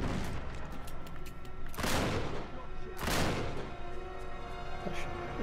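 Pistol gunfire in Uncharted 3: Drake's Deception, a dense run of game shots with two heavy booming bursts standing out over a continuous mix of combat noise.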